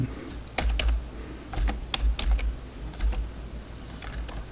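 Close computer keyboard keystrokes while a shell function is typed in Linux, arriving in quick irregular clusters of clicks with short pauses between words.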